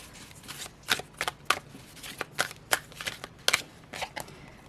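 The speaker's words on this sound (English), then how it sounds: "Shuffle like a standard Hay House deck." Hay House oracle card deck being shuffled by hand, a string of crisp riffling flutters in uneven bursts, close and fairly quiet.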